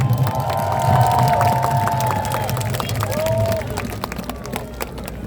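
A crowd at a political campaign rally at Dongdaegu Station in Daegu claps and cheers as a speaker is introduced, loud and continuous, with a few voices and whistles mixed in.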